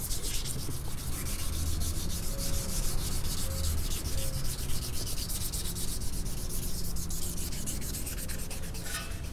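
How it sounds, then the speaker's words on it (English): A maroon Scotch-Brite pad scuffs a Dodge Charger wheel before painting, producing steady, close, continuous rasping strokes that carry on without pause or speech. "Using maroon Scotch-Brite."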